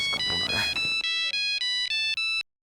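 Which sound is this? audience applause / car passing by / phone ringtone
phone ringtone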